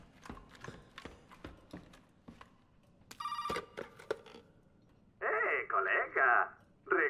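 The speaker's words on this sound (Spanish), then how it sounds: "Vale, suena el teléfono otra vez." An old-style telephone rings in the video game Resident Evil 7 with a bright metallic trill in short repeated bursts, after footsteps and a brief ring earlier.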